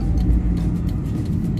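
A car drives along a road as heard from inside the cabin, a steady low rumble of engine and tire noise that holds constant throughout, with no talking.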